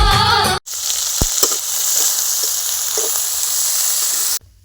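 Onion fries in hot oil with a loud, dense, even sizzle that holds steady for several seconds after a brief break.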